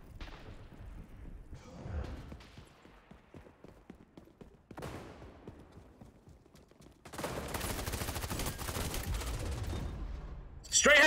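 Sporadic gunshot bursts in a first-person shooter game, scattered single shots and short volleys building into sustained rapid fire near the end, fairly quiet overall.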